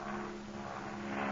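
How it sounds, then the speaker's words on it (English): A propeller airplane, a radio drama sound effect, drones steadily with a humming engine tone, its pitch gently swelling as it passes overhead, with no voices. "see the light of a plane circle overhead and hear it land"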